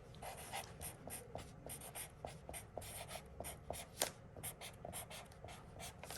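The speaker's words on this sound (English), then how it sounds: "So I'm just going to write" A pen scratches out a name on the back of a canvas in quick, close strokes and taps, a soft, busy run of short scribbles with brief pauses between words.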